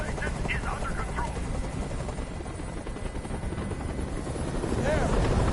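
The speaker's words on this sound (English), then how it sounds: "Tell that helicopter to get out of here." A helicopter hovers overhead in the video game Detroit: Become Human, its loud rotor drone continuous and steady throughout, with faint voices briefly audible.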